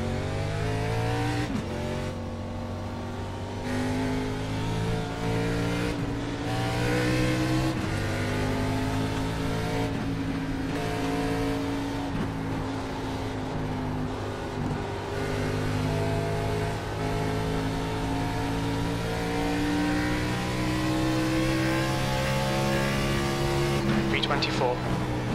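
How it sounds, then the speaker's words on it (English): A race car in a racing video game runs at a constant high engine whine that climbs and drops through gear changes, with a faint whoosh as another car comes up and passes, all under ongoing talk. "Take care, there's a car approaching."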